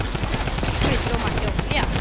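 Fortnite gunfire, including shotgun blasts, comes in dense rapid bursts, loud and continuous through the short moment with a steady hum underneath.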